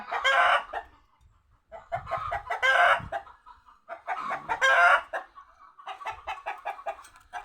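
A chicken clucks and squawks loudly and close by in agitated bursts, ending in a quick run of rapid clucks.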